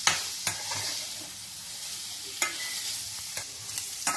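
Paneer sautéing in butter in a pan sizzles softly and continuously, broken by several distinct spatula scrapes and stirring knocks.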